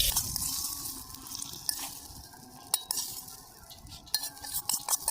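Khichuri being stirred in a clay pot, with soft scraping and clinking of a spoon against the pot, irregular close-up stirring strokes over a low background hiss, no voices.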